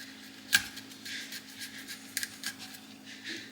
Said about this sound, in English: what I'm going to do is I'm just going to cut all the florets off